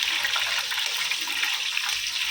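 Water runs and splashes as a bundle of garam masala spices for mutton pulao is washed and squeezed out. The sound is a close, continuous gush of liquid with no voices.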